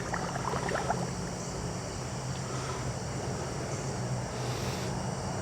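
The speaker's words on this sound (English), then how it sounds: "Scrubbing that water line good." A WYBOT C2 pool robot scrubs along a pool's water line, giving a steady, close wash of churning water over a low motor hum that runs unbroken with no voices.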